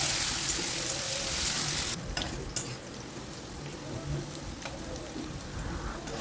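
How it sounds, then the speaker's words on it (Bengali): Potato pieces fry in hot oil with salt and turmeric, a dense crackling sizzle broken by a few sharp stirring clatters near the middle, close and steady with no voices. "সামান্য পরিমাণে হলুদ দিয়ে আলুটাকে খুব ভালোভাবে ভেজে নেব।"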